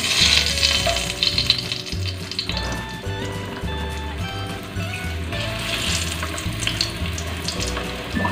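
Banana heart omelette patties frying in hot oil, a continuous crackling sizzle with some watery clatter and occasional utensil noises, close and fairly loud, no talking.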